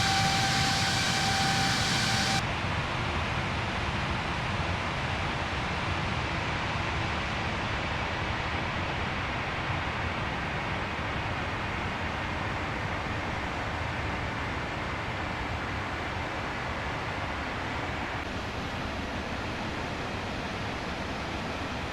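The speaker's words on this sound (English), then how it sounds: "As they climbed to their cruising altitude, there was some light turbulence" Cathay Pacific airliner climbing toward cruising altitude in a flight simulator game, a steady broad jet-engine roar with whooshing airflow that holds constant throughout, with no voices.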